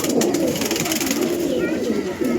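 Andhra pigeons of a pure Mustan line coo in a steady low murmur, a continuous rolling coo close by with a busy backdrop of other birds.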